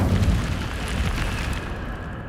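The Incendio fire spell in Hogwarts Legacy goes off with a dense, roaring whoosh of flame and a muffled boom, sustained for about two seconds at moderate loudness with no voice over it.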